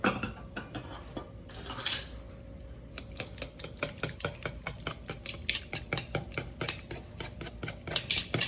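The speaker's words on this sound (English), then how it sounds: "Now we're going to go ahead and actually whisk this together." A whisk clicks rapidly against a bowl as salt and pepper dressing is mixed, giving a close, steady run of sharp metallic taps with a brief swishing burst early on.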